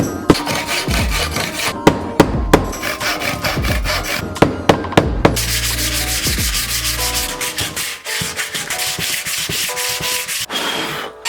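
Close, loud sanding of a wooden handboard ledge, rough rubbing strokes broken by sharp knocks, then a steadier machine-like rasp toward the end.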